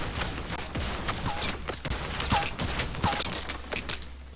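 Gunshots from an opponent in Fortnite ring out as a few sharp cracks over a busy, continuous game soundscape of footsteps and movement, with no talking.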